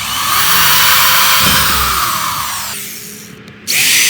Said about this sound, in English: now you just got to drill the little holes for the screws